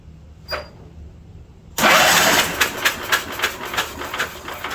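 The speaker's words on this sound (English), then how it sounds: "Now, let us see if the starter works." A 1972 Wheel Horse Raider 12 lawn tractor, left sitting in a shed for 15 years, has its starter crank the engine after a faint click: a loud, sudden grinding whir that keeps turning over in rhythmic pulses without catching.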